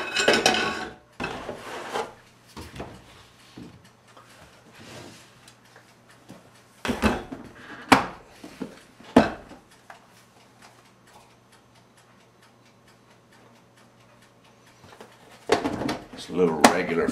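Brand new metal cookie sheet, rack and roasting pan being handled, giving scattered short metallic clanks and rattles in a kitchen, a few louder knocks standing out amid quiet stretches and occasional talk.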